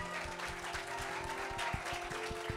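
Church congregation at a Christmas service clapping and cheering together, a steady close wash of applause with rhythmic claps, lasting throughout.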